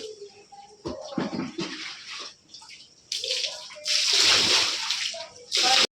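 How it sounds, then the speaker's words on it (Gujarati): Tap water gushes into a container in bursts, rising to a loud rushing pour near the end, while someone talks between the flows in a home kitchen. "પાણી પણ આવી ગયું છે, તો હવે પાણી એવું ભરી લઈએ"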